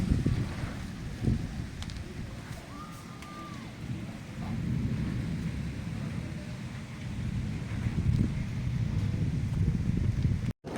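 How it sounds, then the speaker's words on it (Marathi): Strong wind roars steadily through trees for several seconds at the onset of the first monsoon rain, a dense rushing gust sound with occasional faint knocks in the background. "झाडं बघा बघा किती एवढं वारा सुटला आहे ना"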